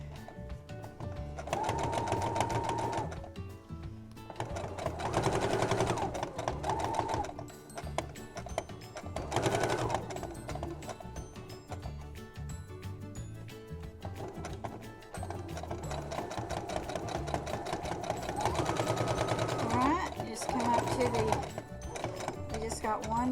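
A sewing machine stitches around the edge of a fabric soup bowl cozy in bursts of rapid clattering hum, pausing briefly at corners for turns, while someone talks between and over the runs.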